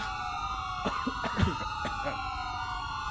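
Wailing ambulance siren in a video game, with steady tonal sweeps running throughout and a few brief thumps and scattered voice sounds over it.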